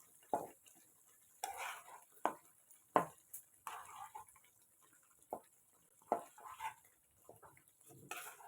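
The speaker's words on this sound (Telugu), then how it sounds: "ఇప్పుడు మనం పన్నీర్ వేసుకుందాం." Paneer cubes are added to cooked dhaba-style palak gravy and stirred, giving sparse, close spoon clanks and scrapes against the pan, with no talking.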